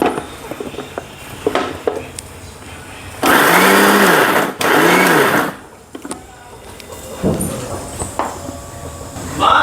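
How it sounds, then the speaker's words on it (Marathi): A mixer grinder coarsely grinds sweet corn for pakoras in two loud whirring bursts with a short pause between, and kitchen clatter and talk before and after. "आता आपण हे पकोड्यासाठी स्वीट कॉर्न थोडेसे जाडसर दळून घेऊ."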